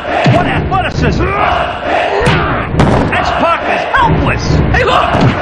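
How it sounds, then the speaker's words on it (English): Roaring crowd cheers from the N64 wrestling game WWF Attitude, a loud continuous arena din with shouts and thumps, while commentators talk over it. "This crowd is going berserk. It's so loud I can hardly hear you, Shane."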